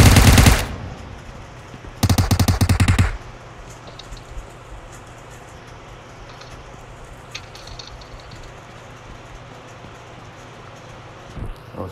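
Automatic gunfire in the video game PlayerUnknown's Battlegrounds: two loud, rapid bursts of shots close by, separated by a short pause, then quieter ambient game sound with no talking.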